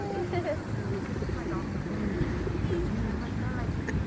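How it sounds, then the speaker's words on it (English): Pigeons and other park birds coo softly and intermittently in an outdoor park, their low calls partly buried under nearby conversation. "those birds over there, they ran out of food"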